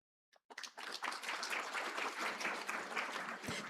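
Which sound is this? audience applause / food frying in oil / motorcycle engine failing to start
audience applause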